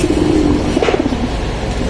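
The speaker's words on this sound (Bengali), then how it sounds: "দেখেন, নরটা অলরেডি ডাকতেছে, এটা হচ্ছে নর।" A male khaki pigeon coos nearby in a pair's coop, a series of soft, throaty, rolling notes repeating in a short rhythmic burst over faint background traffic rumble.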